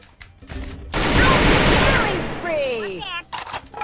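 Gunfire in the Free Fire video game: a dense burst of shots after a few quiet clicks, easing into ringing, whistling tails before brief sharper pops at the end.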